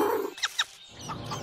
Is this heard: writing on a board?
no